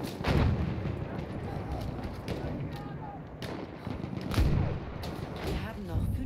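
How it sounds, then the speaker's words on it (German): In a Battlefield 1 multiplayer match, heavy artillery and gunfire boom repeatedly, with several loud blasts and crackling shots over a dense battle din, while a voice talks at times. "Richtig starker Beschuss, habe ich gesagt."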